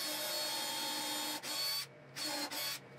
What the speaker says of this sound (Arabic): ونعمل الثقوب بتاعتنا في نفس المكان وبنفس الطريقه اللي كنا شغالين بيها